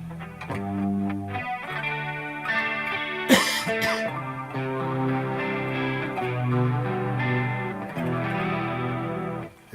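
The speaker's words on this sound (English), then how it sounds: "It sounds really good, this chorus, man" An electric guitar with a shimmering chorus effect plays sustained chords and notes; a brief cough or throat-clearing interrupts midway.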